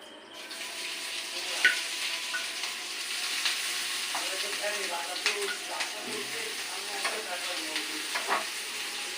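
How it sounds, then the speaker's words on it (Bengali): Onions tossed into hot oil in a pan, a steady close sizzle with occasional crackles and stirring clicks running evenly throughout, no voices. "আমার তেল গরম হয়ে গেছে এবার আমি পেঁয়াজগুলো দিয়ে দিচ্ছি"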